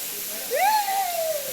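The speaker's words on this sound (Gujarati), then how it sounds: "એમાંથી આ ઝરણાનો ધોધ વહી રહ્યો છે" A forest stream's waterfall gives a steady, broad rushing hiss throughout, with a brief voice-like sweeping tone rising over it midway.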